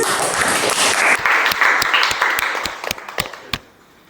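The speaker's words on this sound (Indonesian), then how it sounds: "Tepuk tangan dulu ya teman-teman." Classmates applaud together in a room, a burst of dense clapping that thins out into a few scattered, separate claps before fading to quiet.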